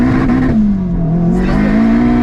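A boosted all-wheel-drive Acura RSX accelerating hard with wheels spinning, a loud, close engine drone whose pitch dips and then climbs again, with a rough tire roar underneath and no talk.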